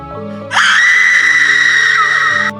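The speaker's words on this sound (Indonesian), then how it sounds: "Seketika suara jeritan panjang dan mengerikan menggema dari seluruh penjuru rumah." A long, terrifying woman's scream used as a horror-story sound effect, rising sharply and holding loud and piercing for about two seconds before cutting off, over a low droning background.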